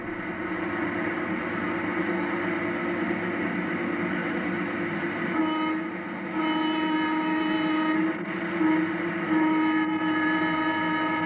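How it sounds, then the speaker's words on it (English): HO scale Boston & Maine model train running on a layout, a continuous rolling rumble with a sustained horn sounding in several long blasts partway through, fairly close and loud. "Right now the train is coming through Lansingburg."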